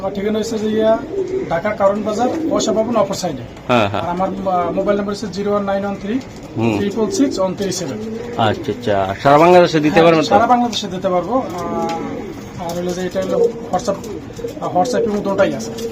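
Pigeons at a seller's place coo repeatedly in soft, throaty bursts close by, running under steady conversation between people.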